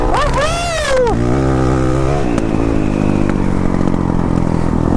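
A dual-sport motorcycle's engine revs hard through a wheelie, pitch sweeping up and falling before settling into a loud, steady engine roar, close to the microphone.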